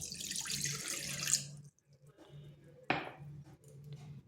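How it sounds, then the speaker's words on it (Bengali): Water pours from a tap into a kadai set up for making langcha sweets, a bright splashing rush that stops, then a short clank of metal and a second faint pour follow. "এখানে কড়াই বসিয়েছি, দিয়ে দিচ্ছি জল।"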